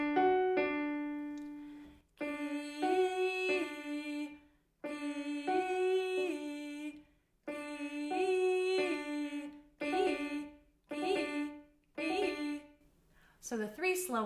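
A singer sustains vocal notes in a slow flexibility exercise on thirds, moving between pitches in several separate held phrases with brief gaps and breaths, close and clear, ending with a short breathy sound.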